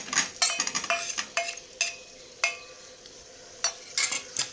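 Boiled potato slices being stirred and sautéed in a pan while making khichdi, with sharp clinks of a spoon against the pan coming in irregular bursts over a faint, steady sizzle.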